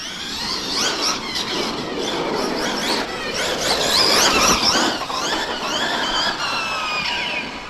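A Hobao SSTE radio-controlled truck drives with a high, whining electric motor that rises and falls in pitch as it accelerates and turns, close and continuous with no talk.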